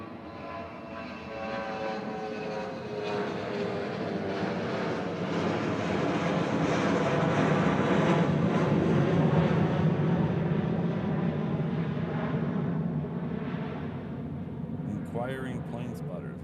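Jet airliner engines at Honolulu airport roar steadily and fairly loudly from a moderate distance, swelling and then easing slightly, while people talk over the noise.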